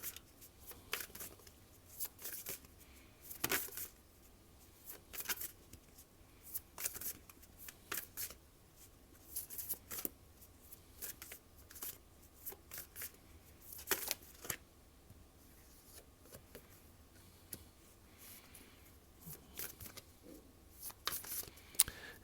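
Tarot cards are shuffled close up in a quiet room, giving repeated soft riffling and slapping bursts at an irregular pace throughout, fairly faint and with no talk.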